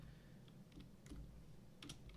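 Fingers tap a computer keyboard in a few scattered light keystrokes, very faint and soft over a low steady room hum, with no talking.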